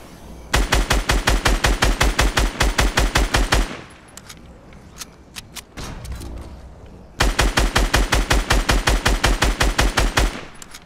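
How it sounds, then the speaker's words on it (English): In the Fortnite video game, gunfire rips into a brick fort in two long, rapid automatic bursts of evenly spaced shots, loud and close, separated by a stretch of scattered hits and quieter action. "I'm starting to shoot their brick fort down a little bit."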